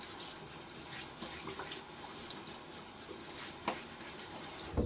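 Cold, hard tap water splashed onto a face before a wet shave, giving soft irregular splashing and running water at close range, with a few sharper splashes near the end and no talk.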